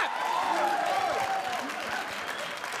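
An audience in a comedy show claps and cheers continuously, a broad, dense wash of applause close and fairly loud throughout.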